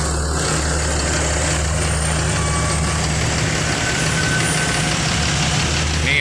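The engine of an ALS 203 intercity bus runs smoothly at idle with a steady low rumble and hum, loud and close throughout, with no voices.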